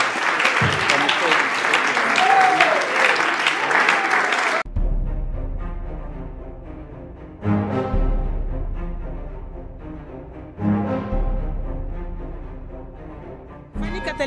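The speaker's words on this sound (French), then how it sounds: "je vous demande d'applaudir frénétiquement" Audience at the Nzonzing Awards ceremony bursts into loud, dense applause with cheering for about four seconds, then it cuts off abruptly to music with bass thumps and short bursts.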